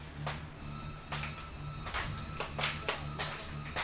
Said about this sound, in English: The slow clap starting again.